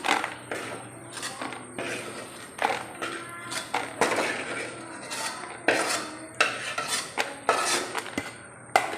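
A metal spoon scoops roasted peanuts into a bowl while making payasam, giving repeated close clinks and scrapes against the pan in uneven bursts.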